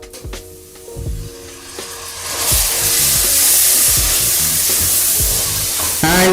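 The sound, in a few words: chopped tomatoes frying in a pan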